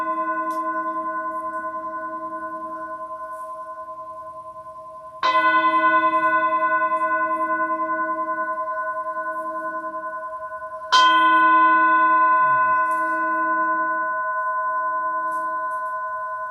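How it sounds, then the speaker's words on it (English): A meditation bell rings twice, each strike a bright metallic onset ringing into a long, slowly fading sustained tone, clear and alone, the second strike landing roughly six seconds after the first. "So I'm going to ring this bell"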